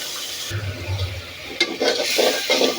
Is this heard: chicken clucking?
no